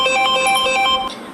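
A telephone rings indoors with a loud, bright electronic ringtone, repeating melodic tones for about a second before cutting off, with no voices over it.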